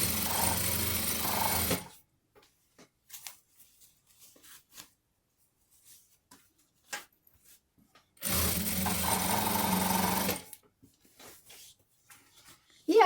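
A sewing machine runs on a satin-trimmed sweatshirt blouse in two bursts of steady stitching, close and moderately loud, separated by a quiet pause filled with small handling clicks and rustles.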